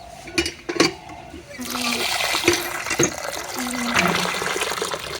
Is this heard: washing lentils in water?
yes